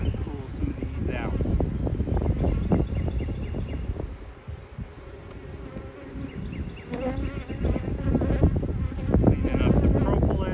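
Honeybees buzz steadily around an open hive during a mid-May inspection, a close, busy drone that runs the whole time, with a person talking over it.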